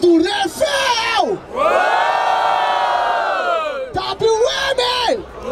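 Crowd at a street rap battle in Barueri erupting in a long sustained cheer and chant, with bursts of shouting before and after, loud and close, rising and falling in swells.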